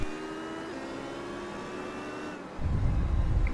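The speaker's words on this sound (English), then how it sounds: "I can hear Burris's car in the distance" A GTC race car engine in a racing video game at Road America hums steadily at a distance, then a louder, rougher rumble swells in close for the last second.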